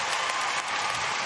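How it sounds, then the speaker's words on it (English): An arena crowd at a large-dog agility world championship applauds and cheers after a run, a dense, continuous burst of clapping filling the space at moderate volume. "And the arena is cheering."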